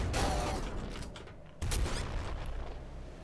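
Laser cannon firing in a video game, a dense rapid burst of blasts that stops briefly near the middle and then comes back with a sharp, heavy onset, loud and steady with no voices.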